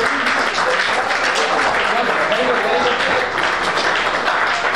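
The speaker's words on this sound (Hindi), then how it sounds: "तालियां नहीं रुकनी चाहिए, तालियां बच्ची देनी चाहिए।" Dense, steady audience applause fills a school event for students with special needs, loud and continuous throughout with only a faint murmur of voices beneath.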